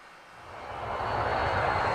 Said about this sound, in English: Thomas watched the Duke's airplane fly away.